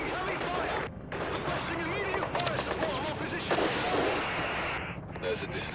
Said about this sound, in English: I don't know what I'm supposed to be doing in that situation to stay away from so much gunfire